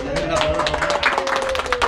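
Guests clap for two sisters at their sixteenth birthday celebration in Bustamante, Tamaulipas. Scattered handclaps patter steadily over a sustained musical tone, with voices talking underneath.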